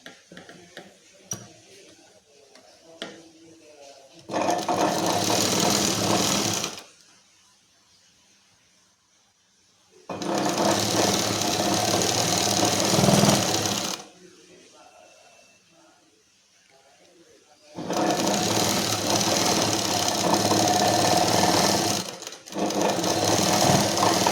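A sewing machine stitches a garment in three loud, steady bursts of rapid whirring, each lasting a few seconds with quiet pauses between. A voice talks softly in the gaps.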